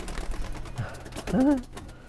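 Pigeons in a loft give a soft, close coo with a rising and falling tone, set among faint rustling and background noise.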